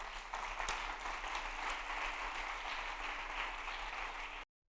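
A church congregation applauds steadily for over four seconds, a dense, even wash of clapping that cuts off abruptly into silence.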